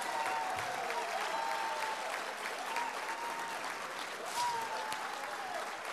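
An audience at a tribute dinner applauds steadily for several seconds, a dense even patter of many hands.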